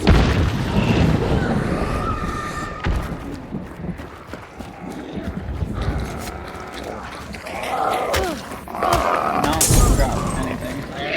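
A sticky bomb detonates in a video game, its deep boom landing among loud chaotic game noise and hoofbeat-like thuds, with a second heavy blast near the end, while someone talks excitedly over it.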